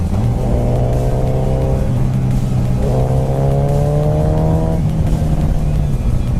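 A 2008 Suzuki Hayabusa motorcycle engine revs on a downshift, two rising bursts of revs over a steady loud drone, heard up close while riding.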